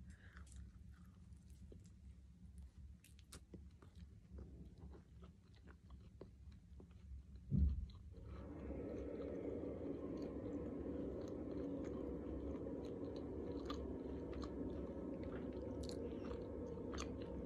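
Someone bites into a slice of cheese pizza with one sharp crunch, followed by steady close-up chewing that continues quietly to the end.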